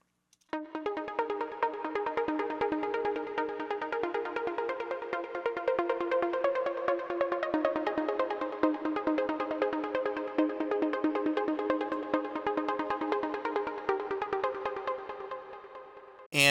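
A plucked melody from the Zebra 2 synthesizer's Just For You pluck patch plays on its own, short bright notes repeating in a steady rhythm with ringing tails throughout.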